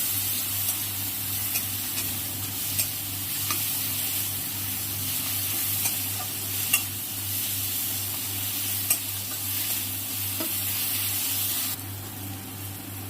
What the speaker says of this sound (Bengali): স্বাদ মতো হলুদ দিয়ে দিলাম এবার নাড়িয়ে করে নিলাম